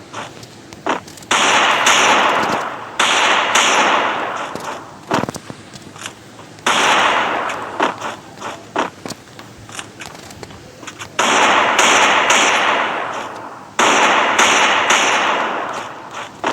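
Bursts of gunfire ring out in the Free Fire mobile battle game, dense crackling volleys of rapid shots separated by short gaps, loud and close, with a few single sharp reports in between.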